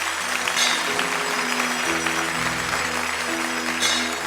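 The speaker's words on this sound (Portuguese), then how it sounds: "Uma salva de palmas a Jesus." A church congregation at a televised Catholic worship program applauds in a dense, sustained wash of clapping, with soft sustained musical tones underneath.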